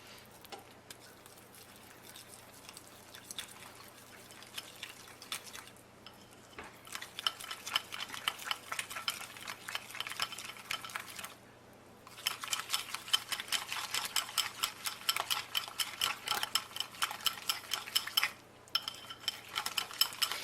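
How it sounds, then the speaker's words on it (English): A whisk beats flour into four tablespoons of melted butter in a bowl, making quick, steady rhythmic clicks and scrapes in bursts with short pauses between them. "I'm going to whisk these together just to make a little paste out of them"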